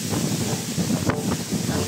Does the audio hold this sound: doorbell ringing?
no